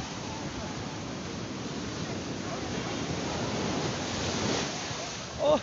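Sea waves wash steadily around legs wading knee-deep at the shore, a continuous close rushing surge with wind buffeting the microphone and a brief voice exclamation at the end.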